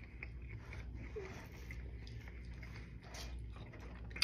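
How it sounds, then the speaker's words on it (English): Biting and chewing on a Pizza Hut stuffed crust pizza dipped in marinara, with soft, close, moist crunching and chomping sounds at low volume and no talking. "Stuffed crust here. I'm dipping it in marinara."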